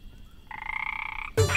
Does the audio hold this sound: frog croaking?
yes